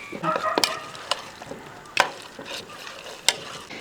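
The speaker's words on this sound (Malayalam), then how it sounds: "ഇത് ഇളക്കിയെടുത്ത് നല്ലപോലെ മിക്സ് ചെയ്ത് എടുത്തു വെക്കാം" Cauliflower pieces being stirred and tossed with masala in a pan, with irregular scraping strokes and several sharp clinks of the spoon against the vessel over a low background sizzle.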